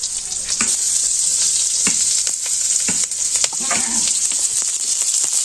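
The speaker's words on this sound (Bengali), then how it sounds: "সামান্য একটা হালকা ভেজে যে পেঁয়াজ কাঁচামরিচ একটু একটু ভাইজে রাখছি" Sliced onions and green chillies fry in a pan over a village cooking fire, a bright steady sizzle broken by repeated spatula scrapes and knocks, close and loud.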